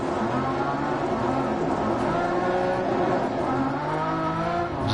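A rally car in the video game DiRT Rally 2.0 drives hard, its engine droning and revving steadily at high pitch with occasional tire noise, loud and continuous throughout, with no talking.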